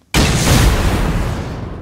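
A single loud weapon shot with a smoke blast in the survival game Rust, a sudden broadband boom that decays into a long hissing tail.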